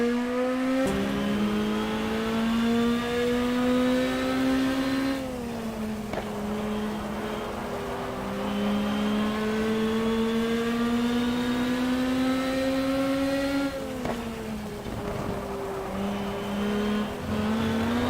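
A race car in GTR 2 accelerating through the gears, a loud close engine note climbing in pitch, dropping at each shift, then climbing again, with brief tire noise.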